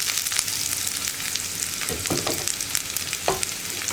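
Chopped onions fry in hot coconut oil with mustard seeds in a pan, a steady close sizzle broken by a few scraping stirs and one or two louder crackles.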